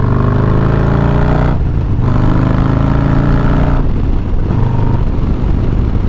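A Harley-Davidson Low Rider ST motorcycle with a Stage 2 upgrade accelerates hard, its loud, close engine roar rising through the gears with two brief dips at the shift points and no speech.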